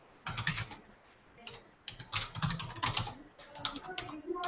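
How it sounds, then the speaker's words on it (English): Rapid clatter of computer keyboard keys in a room during a Google Docs group session, uneven bursts of keystrokes close by with a faint voice underneath. "So now we can all be typing."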